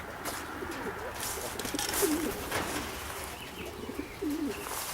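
White racing pigeons coo softly at their coop, a few low burbling calls repeating against outdoor background noise and occasional rustling, moderately close and unaccompanied by speech.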